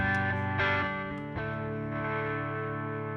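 An electric guitar played through a distortion effect on a Line 6 Helix rings out in several quick, heavily saturated strummed chords that sustain with a thick, buzzing tone.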